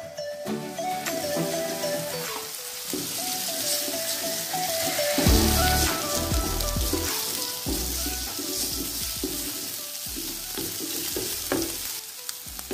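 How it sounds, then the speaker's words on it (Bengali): Two country chicken eggs fry in a pan with spring onion greens, a steady loud sizzle broken by repeated scraping stirs and clanks of a spatula, with no voices. "এখন আমি অ্যাড করব এখানে দেশি মুরগির 2টা ডিম, যেভাবে নেড়ে চেড়ে দিতে হবে"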